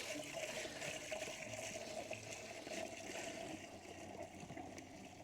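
Clean water pours into a container of about eight litres, a soft, steady gushing and trickling that stays fairly faint and constant throughout.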